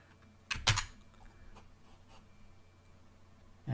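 Typing on a computer keyboard while entering a formula in a spreadsheet, with a quick cluster of sharp key clicks near the start, faint scattered taps afterward, and another click at the end, with no voices.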